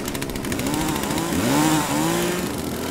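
A chainsaw in The Culling video game buzzes steadily and close, its pitch rising and falling briefly as it revs.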